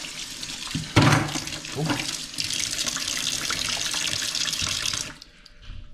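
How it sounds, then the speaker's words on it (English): Shellfish (abalone) rinsed under a running tap, a steady splashing water stream with a brief exclamation from a voice, cutting off abruptly near the end. "Give that a little rinse."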